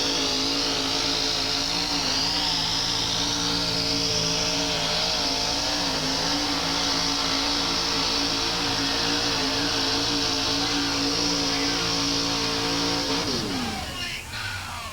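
A loud, roaring monster truck engine revs continuously with shifting pitch, steady and close, at a 1987 USHRA event in Buffalo, then drops off abruptly near the end with a rattling clatter.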